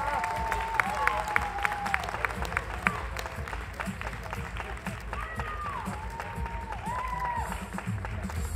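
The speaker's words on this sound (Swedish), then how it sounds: "En applåd för vår vinnare." A crowd applauds a bikini fitness contest winner steadily throughout, a dense wash of clapping, with a voice speaking briefly over it.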